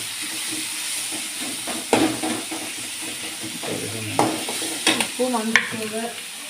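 Tomatoes sauté in a hot pan for a okra tamarind curry, with a steady close sizzle under repeated stirring scrapes and a few sharper clinks of the spoon, no talking.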